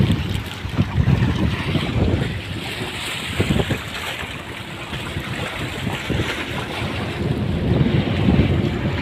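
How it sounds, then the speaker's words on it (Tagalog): Rough, churning ocean waves by a bridge at Subic Bay, Philippines, and heavy wind buffeting the microphone, a continuous loud roar with surging swells close by. "maalon, malakas ang alon"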